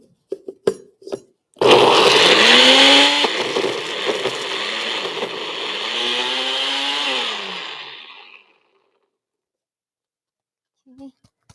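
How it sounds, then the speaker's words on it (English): A loud blender whirs continuously for several seconds blending soaked dates, its motor pitch rising and dipping as it churns, then cuts off; a few knocks before it starts. "Soak them so that it's easier for the blender"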